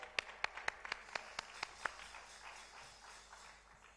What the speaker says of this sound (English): A big round of applause for Priya.